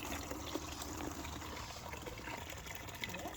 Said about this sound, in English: we're gonna drench this baby in some water so she can have a good drink